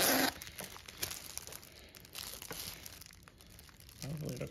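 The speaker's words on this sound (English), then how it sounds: "Our finishing touch, use our scissors and curl it up." Scissors curl a gift-bag ribbon with quick crinkling, scraping strokes, close and fairly loud, while someone talks in the background.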